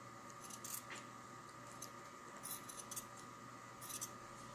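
Scissors snip fabric close to the stitching of a homemade sleep mask in a quiet room, with several short, crisp cuts in irregular bursts.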